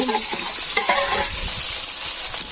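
A fish head fries in a pan of hot oil during simple village cooking in Bangladesh, a loud, close, continuous hiss and crackle with a few soft stirring scrapes and no talk.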